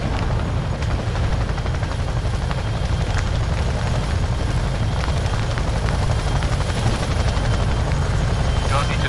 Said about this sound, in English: Get to the chopper now.